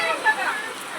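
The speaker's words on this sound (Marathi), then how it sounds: "अचानक आलेला पाऊस," Sudden rain falls in a village, heard as a steady broadband hiss throughout the short moment, with voices faintly present underneath.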